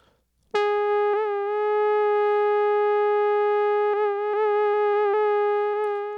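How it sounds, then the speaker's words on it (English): A sustained electronic tone from a lo-fi effects pedal emulating tape dropout holds steady, with several brief wobbles and dips in pitch as if the sound momentarily catches and recovers. "What these dropouts are emulating, this is from the manual, is a tape getting caught and catching up."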